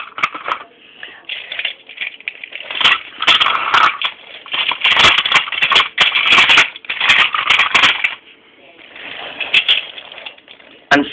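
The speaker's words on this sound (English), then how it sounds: "The trucks crashed into the turntable." Railway trucks crash into a railway turntable, producing loud, clattering metallic rattles and bangs in repeated bursts over several seconds.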